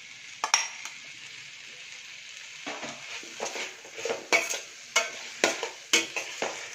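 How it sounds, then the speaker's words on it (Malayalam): Onions frying in a pan for chicken pirattu as chopped tomato goes in, a faint sizzle broken by a run of clinking spatula strokes against the pan that grow louder and more regular, no talk. "അപ്പോൾ ഉള്ളി ഈ ഒരു കണ്ടീഷനിലാകുമ്പോൾ നമ്മളിതിലേക്ക് അരിഞ്ഞു വെച്ച തക്കാളിയും കൂടെ ഇട്ട് കൊടുക്കും."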